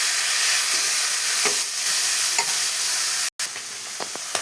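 Boiled black-eyed peas being stirred in a pan for an evening snack produce a dense, hissing sizzle up close, with occasional scraping strokes and a brief cut of silence partway through.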